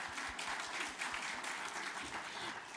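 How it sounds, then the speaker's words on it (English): At a church's 90th anniversary service, a congregation claps for an honor recipient, a soft, even spread of many hands applauding continuously, somewhat distant and steady throughout. "yeah, clap."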